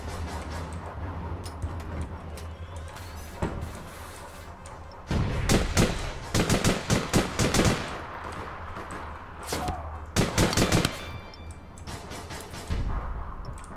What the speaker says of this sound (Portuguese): Por que que tá chovendo bala aqui?